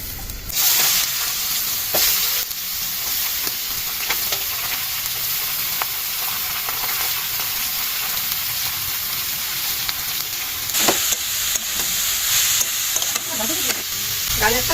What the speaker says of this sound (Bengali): কড়াই তেল দিয়েছি, এবারে সবজিগুলো আমি ভেজে নেব।